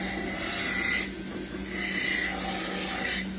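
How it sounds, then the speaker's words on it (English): Compressed 3M Scotch-Brite wheel spinning against a metal cuff, a continuous close abrasive hiss and whine over a steady motor hum, rising in two grinding passes with no voice. "This is a 3M wheel. It's called compressed Scotch-Brite."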